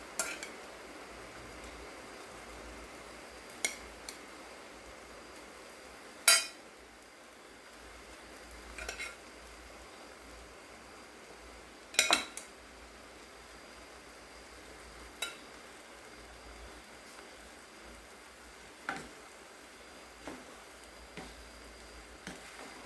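Egg rice with cooked rice and garam masala is mixed in a cooking pan under a soft, constant sizzle, with occasional sharp spatula clinks and scrapes against the pan spaced several seconds apart.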